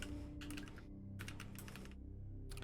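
Computer keyboard typing in bursts of quick, close, light key clicks separated by short pauses, played during Space Quest II: Vohaul's Revenge; no talking.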